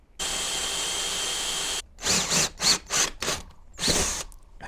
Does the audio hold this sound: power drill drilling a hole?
yes